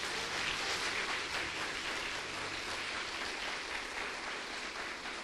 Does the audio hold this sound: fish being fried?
no